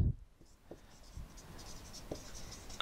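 A math problem being written by hand, faint scratchy pen or pencil strokes on paper with a few soft taps, close and quiet, with little else around it.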